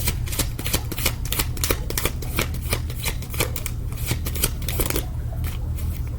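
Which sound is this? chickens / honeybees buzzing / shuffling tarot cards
shuffling tarot cards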